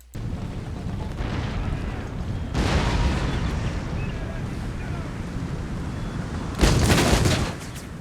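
Howitzer artillery fire in the Empire: Total War battle game: a steady rumbling, roaring backdrop broken by two heavy, loud booming blasts, one near the middle and a second sharper burst near the end.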